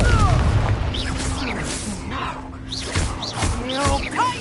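A Confringo fire spell blast in the Hogwarts Legacy video game: a deep booming burst at the start, followed by softer thuds amid game effects, with voices talking throughout.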